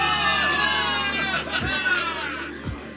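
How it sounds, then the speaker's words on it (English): Video game soldiers cheering for victory, a crowd of shouts and screams rising together over a steady babble, with a loud voice leading the cheer. "Give it up for yourselves, soldiers! Cheer for victory!"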